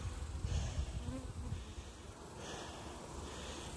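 Bees buzz around a hive in a steady, dense drone that carries on without a break, close by and fairly quiet.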